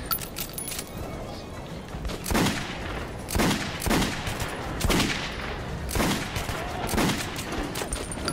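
Rapid gunfire bursts from the Metro Redux video game, repeated crackling volleys every second or so over a steady noisy background, with voices talking in places.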